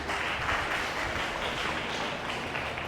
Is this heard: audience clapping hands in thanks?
yes